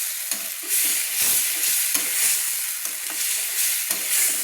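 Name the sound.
sautéing onion paste masala with water for fish curry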